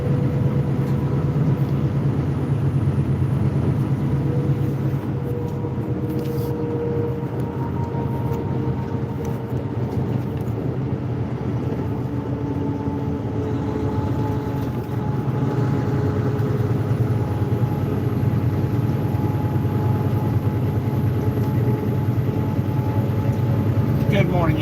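A truck climbing over Monteagle, Tennessee at night gives a steady, continuous engine drone with road rumble and faint tonal whine, unbroken from start to finish.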